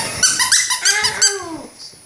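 A dog playing with its toy, giving a quick run of high squeaks, yips and soft growly whimpers, loud and close with no talking.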